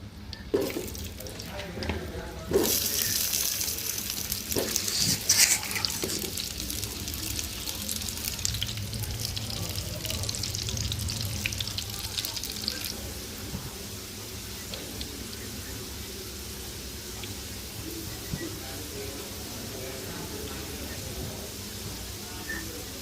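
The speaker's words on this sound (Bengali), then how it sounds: "সবার আগে আমি আলুগুলো ভেজে নিব তেল গরম হয়ে গেছে আলুগুলো দিয়ে দিব" Potatoes dropped into hot oil start frying with a loud sizzle that gradually settles into a softer, steady hiss over a long stretch.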